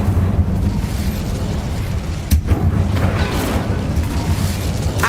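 Incendio fire spell cast in the video game Hogwarts Legacy: a dense, roaring burst of flame and blast noise that fills the whole stretch, with a sharper crack partway through.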